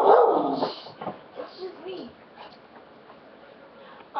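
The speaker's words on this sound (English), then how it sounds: "My dog thinks I'm a different person." A pet dog barks loudly at close range, then trails off into whimpers and yips, with a sharp bark returning at the end and a person talking to it in between.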